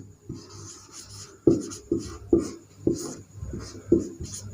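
Chalk or marker strokes on a classroom board, a run of short scratchy taps and rubs in an uneven rhythm, close and fairly quiet.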